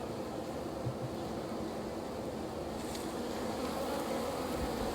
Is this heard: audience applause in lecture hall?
no